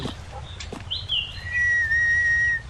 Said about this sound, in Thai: มีผิวปากด้วย